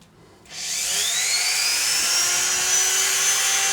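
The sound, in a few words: power drill running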